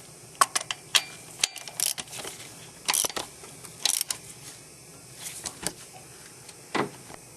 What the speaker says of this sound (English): Okay, we got our bolts in for our fuel filler housing. We're going to tighten them up.